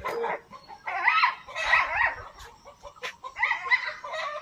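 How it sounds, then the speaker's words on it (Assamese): A dog barks and yips playfully in short bursts outdoors in the morning, loud and close, with brief whimpers between the barks and no speech. "কুকুৰ এনেই মানে ধেমালি কৰিছে"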